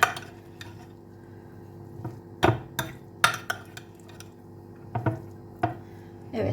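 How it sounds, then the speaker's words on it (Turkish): Spoon scraping and knocking against a bowl while stuffed pepper filling with parsley and mint is mixed for Istanbul-style olive oil dolma; scattered clinks and scrapes over a low steady background, no talk. "Şimdi böyle karıştırıyorum"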